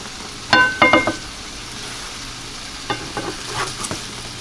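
Salisbury steak patties fry in a pan with a steady hiss of sizzling fat, broken by a few clattering scrapes and taps of a utensil stirring and turning the meat.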